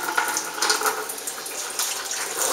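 Dissolved corn sugar water pours steadily into a plastic bottling bucket for home-brewed beer, a close continuous splashing trickle with no talk over it.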